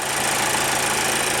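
A 2022 Nissan Altima SV's 2.5-liter four-cylinder engine idles steadily up close, a continuous, slightly coarse mechanical hum with a busy, unrefined texture and no talking.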